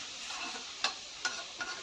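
Chopped bottle gourd frying in a hot pan with a faint, steady sizzle, broken by a few sharp clicks from stirring against the pan. No voices.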